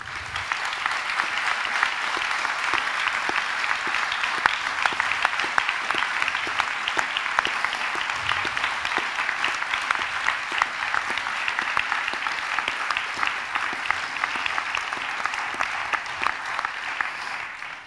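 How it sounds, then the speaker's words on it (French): Sustained applause from an audience at a formal court session's opening ceremony, a dense, even wash of many hands clapping at steady loudness for the whole stretch, with no voices over it. "Ils méritent nos applaudissements"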